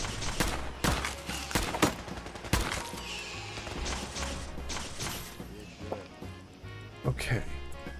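Gunfire in Fallout 4 cracks out as sharp scattered shots, some in quick bursts, mixed with game noise while a person talks over it.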